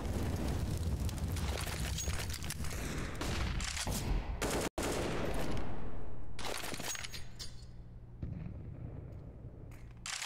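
Several Tec-9 pistols firing in a Counter-Strike esports match on Mirage: dense, loud, overlapping bursts of rapid shots that run almost continuously, cut by one brief dropout near the middle.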